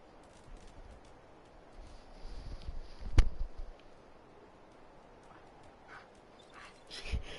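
A dog in the video game Fallout 4 barks and whimpers amid game background noise, with a single sharp sound in the middle and another near the end.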